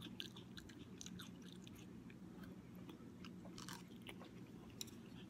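Someone chews crunchy water chestnuts close to the mic, with steady crisp crunches and bites repeating throughout, quiet and with no talking.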